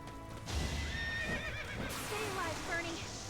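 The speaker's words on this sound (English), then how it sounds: "those are horse archers" Horses neigh and whinny loudly, with hooves clip-clopping, as horse archers close in during a battle in the video game Fire Emblem Three Houses. Other game sounds play underneath, with a voice speaking over the horses.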